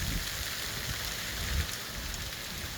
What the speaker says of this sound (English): it decided that it's going to hail